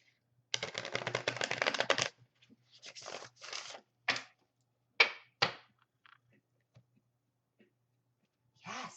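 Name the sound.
shuffling tarot cards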